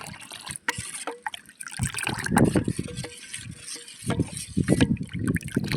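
Ragi porridge (kepa koozh) is poured outdoors in a forest for a traditional breakfast, producing a thick liquid trickling and splashing in uneven bursts, close and fairly loud, with a voice talking in the background.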